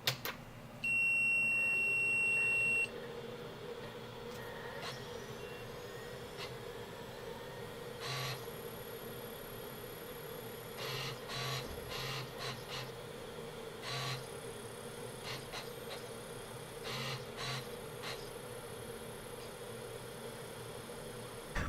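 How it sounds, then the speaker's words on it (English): Steady mechanical whir and hum from a Sega Dreamcast game console running alone, with faint high whine and intermittent clicks and ticks, fairly close. "One of the big gripes most people have about the Dreamcast is actually all the noise it makes."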